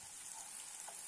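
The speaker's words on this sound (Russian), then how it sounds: "Обжариваем вместе с луком в течение 2 минут." Chopped onion and diced peeled tomato frying together in a pan, giving a steady, soft, continuous sizzle with light crackle throughout, fairly faint and with no talking.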